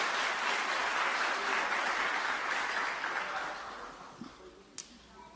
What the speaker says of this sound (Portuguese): Dê um aplauso a Jesus, faça isso